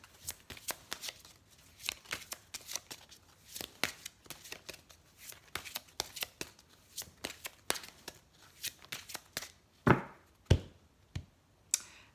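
Oracle cards of the ascended masters are shuffled by hand in a rapid, uneven series of close papery slaps and riffles, with a few louder snaps toward the end.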